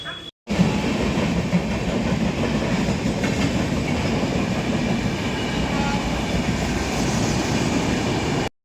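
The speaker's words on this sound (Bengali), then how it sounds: "ছেড়ে দিচ্ছে ট্রেন" A train pulls out of the small Khirai station with a steady, loud rumble of wheels and carriages that runs continuously after a brief gap at the start, rolling on without a break.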